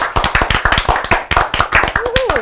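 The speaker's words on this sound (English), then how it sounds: "Let's give a nice big round of applause to Manny Arias." A studio audience applauds a comedian as he comes on a talk show with steady, close, crisp clapping throughout. A brief voice sounds over it near the end.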